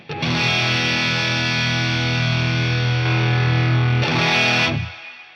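A sustained, heavily distorted electric guitar chord through a Wampler Dual Fusion overdrive pedal on its Throaty setting rings out loudly, with a brief scratchy strum near the end before it fades.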